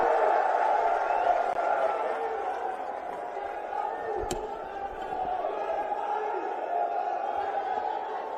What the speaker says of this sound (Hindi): जोरदार तालियों से स्वागत कीजिए प्रियंका गांधी वाड्रा जी का